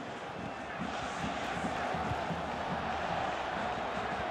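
Stadium crowd in the EA Sports FC 24 football game roars continuously to drive their team forward, a broad, dense wash of cheering that swells slightly after the first second and stays steady.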